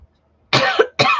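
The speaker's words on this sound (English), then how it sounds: "I have the coughs." Two harsh, close coughs in quick succession, loud and rough, separated by a short gasp, after a moment of near silence.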